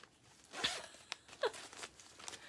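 A small zipper on a soft pencil case gives a few quick, faint zipping strokes and rustles, close and quiet, with no talk.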